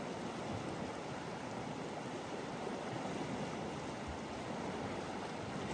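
River water at Poison Butte Campground on the Lower Crooked River, a steady, dense rushing flow heard alone at moderate loudness with no breaks or voices.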